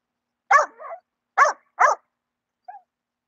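Bulldog puppies bark in three short, sharp close-up bursts, one trailing into a yelp, followed by a faint brief yip, with silence between and no talking.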